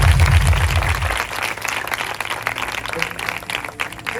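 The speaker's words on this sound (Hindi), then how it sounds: "लगाओ एक बार यीशु और ताली" A congregation at a revival meeting in Odisha applauds, a busy spell of clapping and crowd noise with a low rumble at the start and voices mixed in.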